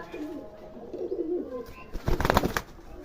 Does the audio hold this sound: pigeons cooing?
yes